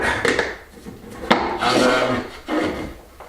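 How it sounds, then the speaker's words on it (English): A plastic lid is fitted back onto an electrical junction box during kitchen electrics work in a Spanish farmhouse renovation, giving close rubbing, scraping and knocking handling sounds in several short bursts with no talk. "we can put the lid back on this junction box"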